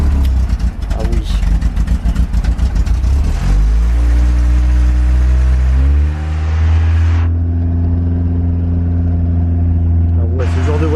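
A car engine revs hard and close, its pitch climbing in two steps and then holding a steady high drone before easing off, with voices talking over it.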